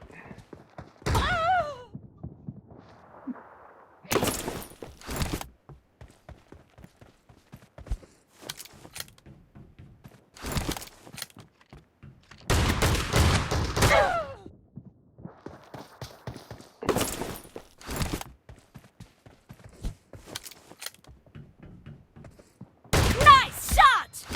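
Shotgun blasts in a one-on-one video game match, several sharp, loud reports spaced apart with short clicks and thuds between them, alongside brief voices.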